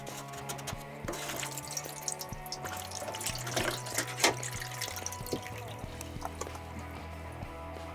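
Water drains from the filter of a Bush washing machine into a baking tray, a steady trickling and splashing flow with scattered drips, fairly faint and close, with low background hum.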